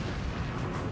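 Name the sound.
Bismarck battleship firing 15-inch guns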